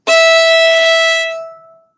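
A bowed string instrument sounds one long, bright sustained note on an up bow started at the tip, beginning firmly, holding evenly and then tapering off gradually to silence.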